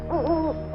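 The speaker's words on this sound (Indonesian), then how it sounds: "terdengar suara burung hantu dari atas pohon" An owl hoots from a tree, two close, clear hooting calls over a low background hum, the second beginning just as the short moment ends.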